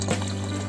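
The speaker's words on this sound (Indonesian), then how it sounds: "Kemudian kita tuangkan bersama-sama." A and B hydroponic nutrient solutions poured together into a tank for cucumber fertilising, a short close gush of liquid with a steady watery hum and no talking.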